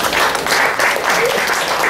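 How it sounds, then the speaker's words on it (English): A school audience claps for a teen troupe after a performance of Ugandan traditional dances, a dense steady applause that fills the whole moment without speech. "Please let us clap for the team for the last time."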